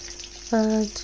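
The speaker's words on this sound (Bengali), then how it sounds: "আমি এখানে কড়াইতে দিয়ে দিয়েছি পেঁয়াজ কাঁচামরিচ দিয়ে এখন আমি এটাকে ভালো করে ভেজে নেব" Onion and green chilies frying in a wok, a steady sizzle running throughout with a brief louder, tonal burst midway, close and alone without talk.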